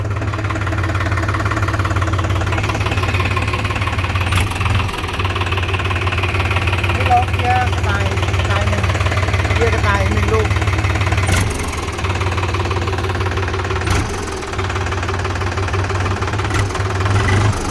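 A New Holland TT3.50 three-cylinder tractor engine runs steadily in high gear with a loud, knocking diesel drone and vibration, close up, with a couple of brief bumps and dips in its tone.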